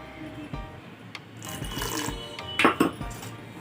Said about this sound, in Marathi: आपण थोडंसं अजून पाणी टाकायचं ह्याच्यामध्ये